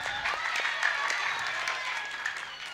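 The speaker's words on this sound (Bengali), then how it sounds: "সাহেবের জন্য জোরে হাততালি হয়ে যাক।" Audience at a Bengali stage play applauds a local MLA, loud sustained clapping from many hands, close and dense, continuing steadily before slowly thinning out.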